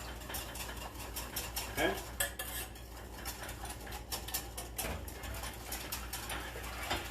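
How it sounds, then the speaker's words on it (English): Whisking a warm egg mixture back into a pot for seasonal bread pudding: a steady run of fast metallic whisk scrapes and clinks against the pot, close and continuous, with a brief spoken word. "And now we can take this and we can whisk this back into the pot."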